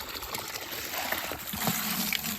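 Water poured from a bucket onto an off-grid no-dig garden makes a continuous splashing, trickling wash at close range, steady throughout with no talk.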